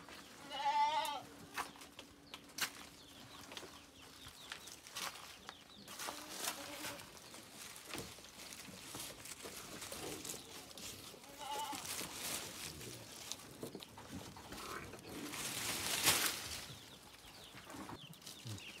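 Goats bleat on a farm while leftover fodder is gathered, with a clear nearby bleat early on and rustling and shuffling of dry fodder afterwards, plus faint background animal sounds.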